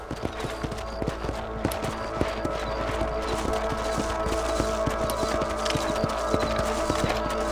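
Steady clip-clop of horse hooves from a ridden mount in the video game Red Dead Redemption, an even trotting rhythm, close and clear over faint outdoor ambience, with no talk.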